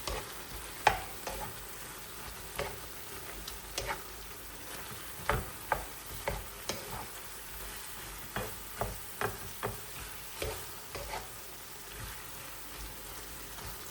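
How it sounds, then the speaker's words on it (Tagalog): Sautéed bitter gourd with egg, salt and pepper is stirred in a pan: a quiet, steady sizzle punctuated by a series of distinct utensil scrapes and clicks at irregular intervals. "Haluin muna natin."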